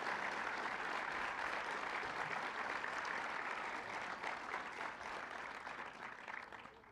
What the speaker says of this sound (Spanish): Yo pido otro aplauso para los ingenieros aquí de Conagua